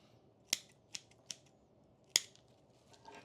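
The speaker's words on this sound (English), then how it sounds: "Let's cut it off right there." Pruning shears snip through branches of a tiger bark ficus bonsai in four sharp, close cuts spaced unevenly, with a faint extra rustle near the end and no talking.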